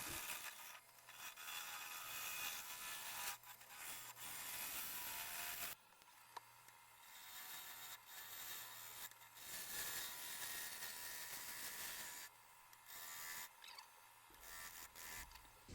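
A woodturning gouge cuts a large, dense, gnarly yew bowl on a lathe, giving a continuous loud rasping, scraping texture that runs steadily for long stretches with a couple of brief breaks and shifts in tone.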